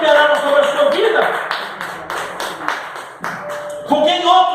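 A church congregation claps and cheers during a Portuguese-language sermon, with a preacher speaking loudly over the scattered, uneven applause.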